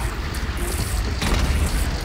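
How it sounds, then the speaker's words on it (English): Cannon firing in Horizon Zero Dawn, a steady loud rumbling barrage with a sharper heavy boom about midway, dense low-end roar throughout. "The cannon."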